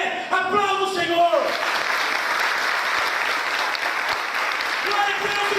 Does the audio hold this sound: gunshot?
no